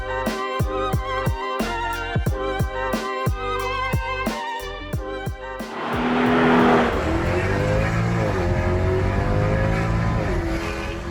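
A cheap Mercedes limousine is driven on a racetrack, its engine revving through a rapid series of sharp gear changes before settling into a louder, sustained drone with squealing tires, and no voices can be heard.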